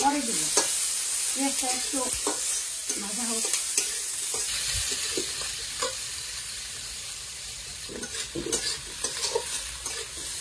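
Onion and garlic fry in a pan for chicken curry, a loud continuous sizzle broken by repeated scraping stirs, close by, with a few faint voices in the background.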